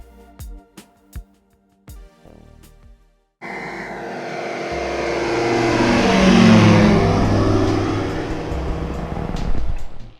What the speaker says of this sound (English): To take off from a grass runway, I put in 10 degrees of flaps, add full power, and hold back on the yoke.